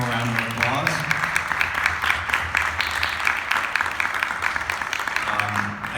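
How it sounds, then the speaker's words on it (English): An audience gives the Prometheus panelists a round of applause, with dense steady clapping that tapers off toward the end and a voice briefly speaking at the start. "just to give all of our panelists up here one more round of applause"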